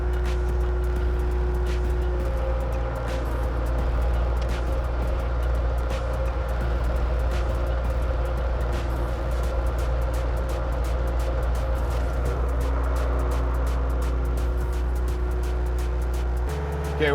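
A skid steer engine holds a steady three-quarter throttle at about 2150 rpm, a loud, constant close drone with a low rumble and a few faint ticks, no talk.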